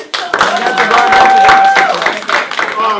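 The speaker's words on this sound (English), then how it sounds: "Okay, so clap it up for them." Audience clapping for a pair of breakdancers at a hip-hop event, dense and fairly loud across the whole stretch, with voices and a few whoops mixed into the crowd noise.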